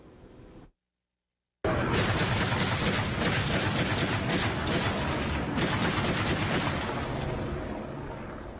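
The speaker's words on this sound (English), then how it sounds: "A lot of firepower right there." Heavy gunfire rings out in a police shootout near the Texas–Mexico border. A dense, sustained burst of rapid shots continues for several seconds after a short silent gap, then tapers off slightly.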